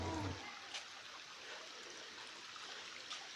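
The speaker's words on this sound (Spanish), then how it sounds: "Este arroyo desemboca en el río que tenemos más adelante." Small stream trickling and flowing steadily at low volume, a soft continuous wash of water near a village washing spot, with a brief low thump at the start.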